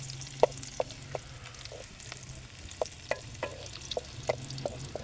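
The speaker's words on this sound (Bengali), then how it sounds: "সরাসরি সেই পাত্রে আমি এখন মশলাটা মেখে নেব" Masala being mixed into chicken in a cooking pot for Bengali kalavuna, with sharp spoon or spatula scrapes and taps at irregular intervals over a faint low hum, close and fairly quiet.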